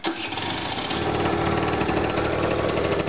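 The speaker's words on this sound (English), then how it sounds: "I start now the engine." An engine fitted with a TV flyback transformer in place of its ignition coil starts and runs with a loud, steady, rapid mechanical chatter, close by and uninterrupted, with no speech.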